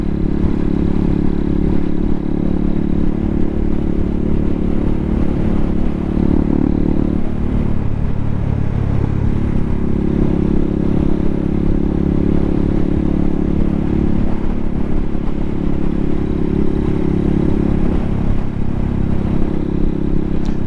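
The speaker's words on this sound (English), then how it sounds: "Man, I love riding a motorcycle." Honda Hawk 250 motorcycle being ridden, its steady engine drone and road rumble filling the whole stretch with loud wind noise and no talking.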